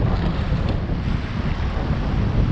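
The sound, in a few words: strong wind on the water while kayak fishing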